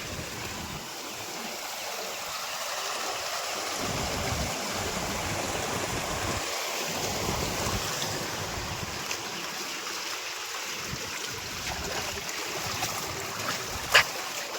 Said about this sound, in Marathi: हे बघा सगळं उपलींचं पाणी उपलींचं पाणी।